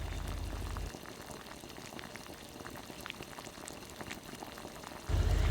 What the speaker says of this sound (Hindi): इसके अंदर उबाल तो आ गया